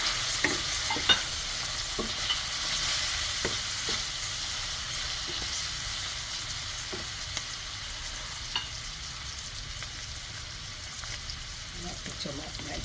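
Seasoning sizzles and fries in a pot with a steady moderate crackle, while intermittent stirring scrapes and soft clicks recur throughout.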